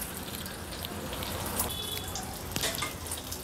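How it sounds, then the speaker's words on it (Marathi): Bangda mackerel frying in hot oil over a low-to-medium gas flame gives a steady, dense crackling sizzle that runs the whole time, fairly loud and close, with no talking. "आता हा बांगडा आपण तळायला ठेवूया।"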